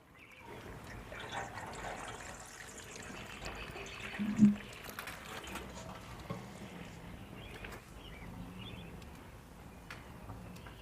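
A newly planted container garden of hydrangeas and boxwood is watered in: a soft, steady trickle and pour of water runs throughout at low volume, with one brief louder splash midway.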